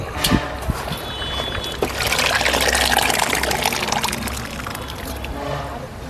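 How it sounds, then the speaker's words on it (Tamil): Boiled lentils are poured into a pot of boiling dal, producing a loud, close, continuous sloshing pour with bubbling liquid for several seconds. "நம்ம வேக வச்சுக்கிற பருப்பை நம்ம இப்போது அதில் சேர்க்க போகிறோம்"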